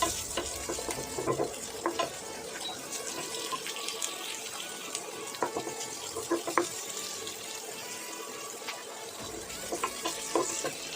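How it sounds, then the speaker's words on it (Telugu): Chopped onions frying in a pan for masala Maggi noodles, a steady sizzle with repeated scraping and stirring strokes near the mic; a running-water wash sound joins in partway, and no one speaks. "మంచిగా కలుపుతూ వేయించుకోవాలి. ఆ తరువాత మనం కట్ చేసి పెట్టుకున్న ఆనియన్స్ని కూడా వేసేయాలి."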